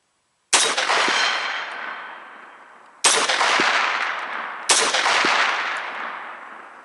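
A 1943 M1 carbine fires three loud, sharp shots at an outdoor range with a 100-yard target. Each crack rings into a long, fading echo, the shots are spaced a couple of seconds apart, and no one speaks.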